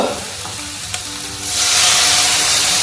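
Food sizzles steadily in a pan with butter and garlic, a continuous close crackle that swells louder and brighter midway, with a brief stirring click, no voices.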